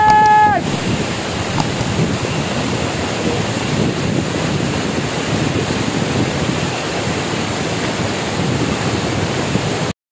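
Kuthungal waterfalls in Idukki, a large waterfall giving a steady, loud, broadband roar heard close by, with a brief tonal sound at the very start.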